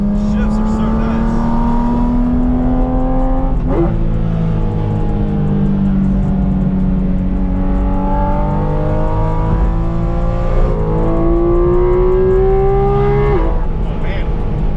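A Porsche GT4 RS with the Weissach package pulls hard through the gears, its engine note climbing in long loud sweeps with a sharp drop at each upshift, captured from inside the cabin with some talk over it.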